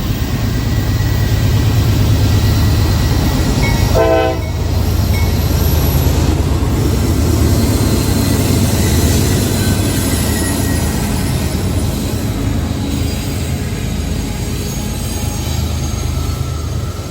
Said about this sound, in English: Goddamn diesel's working hard, pulling this hill.